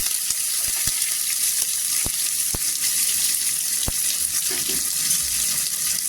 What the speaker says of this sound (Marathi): आपण इथे मोठे 2 कांदे चिरलेले टाकायचे